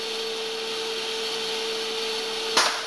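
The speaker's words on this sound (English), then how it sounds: "Slowly increasing the vacuum in the center section here." A vacuum pump draws steady suction on a resin transfer moulding (RTM) mould, a constant machine hum with a steady tone running throughout, and a brief louder hiss or knock near the end.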